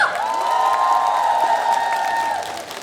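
An outdoor festival crowd at a fusion Korean traditional music concert cheers with a long, sustained shout over scattered clapping, loud at first and then fading away toward the end.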